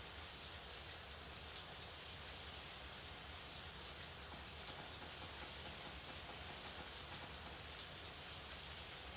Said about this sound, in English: The rain's kind of putting me to sleep.